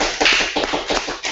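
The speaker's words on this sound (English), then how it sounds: "A round of applause" Audience applause for Bob Christadore at the close of a bi-weekly huddle hangout: dense, steady clapping from a small crowd, fairly close and loud, with no talk over it.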